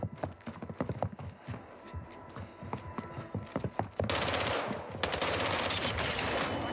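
Gunfire in the video game Warzone 2, with rapid bursts of sharp shots and clattering impacts, then a dense continuous roar of automatic fire, loud and close.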